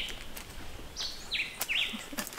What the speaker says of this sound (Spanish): el sonido de los pajaritos, que me gusta mucho